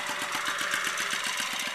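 A Yamaha Yamahopper moped's two-stroke engine, which mixes its own oil and has some rust in the gas tank, runs steadily at a fast, even putter, close up and loud with no talking.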